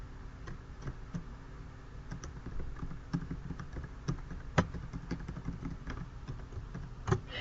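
Keyboard shortcut keys on a computer are pressed in a spreadsheet, giving quiet, close, irregular clicks and taps, with a few sharper key strikes standing out against a faint background hum.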